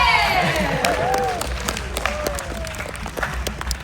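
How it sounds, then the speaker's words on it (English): Crowd applause with cheering and whoops at a live science show at Science Museum Oklahoma, loud and continuous, with excited voices rising over the clapping early on before it settles into steady applause. "Big round of applause for the Vortex Cannon!"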